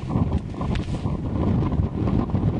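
Outdoor wind blows hard and steadily across the microphone, making a continuous low rumbling buffet with no clear breaks and no speech.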